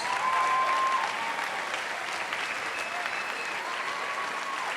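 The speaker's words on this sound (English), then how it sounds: "Graduates, please give them a round of applause." Large crowd at a graduate commencement ceremony applauding graduates' families, a continuous wash of clapping filling a big hall, loud at the start and holding steady at a slightly lower level.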